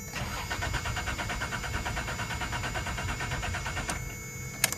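A 1993 Toyota 4Runner engine cranks steadily without catching, the starter whirring in a fast rhythmic chug for several seconds, with a couple of sharp clicks near the end.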